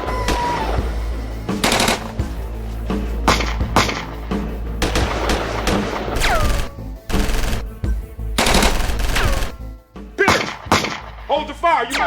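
A movie shootout unfolds with rapid bursts of gunfire and sharp single shots, some echoing, scattered across the scene amid shouting voices and clatter.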